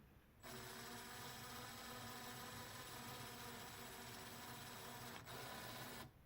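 Parkside PKPA 20-Li A1 cordless caulking gun motor driving its pinion, crown gear and rack, a steady whirring gear whine that starts abruptly, dips briefly near the end and stops, close and alone.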